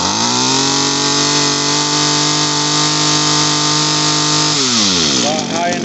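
An Echo SRM-2400 string trimmer's two-stroke engine runs steadily at a high buzzing idle after a carburetor repair, loud and close, then briefly shifts pitch near the end.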